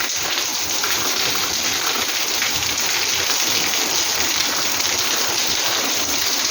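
Steady rain pours onto potted orchids and succulents outdoors, a dense, even hiss of countless drops with no pauses or voices.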